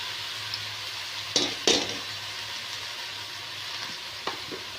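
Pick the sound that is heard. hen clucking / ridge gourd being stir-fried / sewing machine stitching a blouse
ridge gourd being stir-fried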